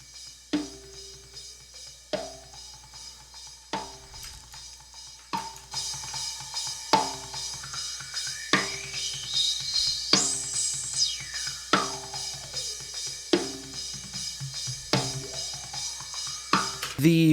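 A narrow-Q EQ band sweeps up and down across a repeating snare drum pattern, the boosted resonance gliding high then falling back as the hits keep a steady beat, with no voices.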